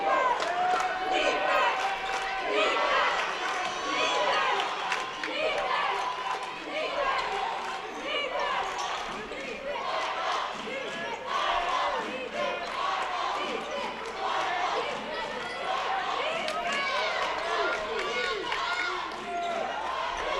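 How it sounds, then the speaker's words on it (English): Excited crowd of Navarro fans at a college basketball game cheers steadily in the background after a made free throw, a loud dense roar with ball bounces and court noise mixed in throughout. "you hear the Navarro crowd in the background very excited to see a free throw go down"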